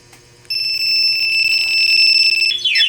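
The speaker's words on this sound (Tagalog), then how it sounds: "Ayan, ito alarm na." A Yamaha Fazzio scooter's alarm sounds loud and close, a sustained electronic tone that starts abruptly after a brief quiet moment and ends in fast warbling sweeps.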